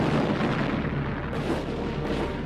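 Heavy cannon fire pounding stone and brick city walls during a 1453 siege, a dense, continuous roar of booming blasts and rumble that stays loud throughout, with no voices.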